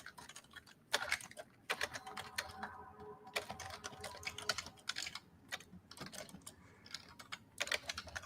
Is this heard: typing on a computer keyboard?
yes